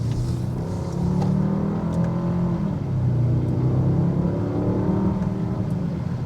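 A 2024 Mercedes-AMG GLS 63 V8 exhaust rumbles loud and close as the SUV downshifts, its deep drone rising and falling in pitch through gear changes, with no voices over it.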